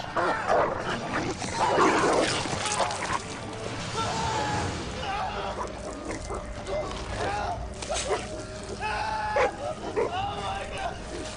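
Dogs barking and snarling in an attack scene from the video game Albert vs The Asylum, with harsh crashes and squealing sounds mixed in and a voice talking over much of it.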